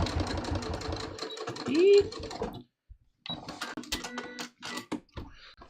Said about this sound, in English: First, I'm going to sew it down.